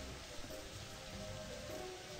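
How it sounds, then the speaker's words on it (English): Steady, even rain hisses in the video game My Summer Car, a continuous wash of drops with no voices over it. "Oh no, it's raining."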